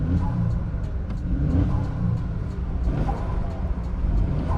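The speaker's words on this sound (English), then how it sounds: "Let me give you guys a few revs to hear how it sounds." A 2021 Ford Bronco Sport engine idles and hums with a low, steady rumble, rising slightly in a mild rev, close by with no speech.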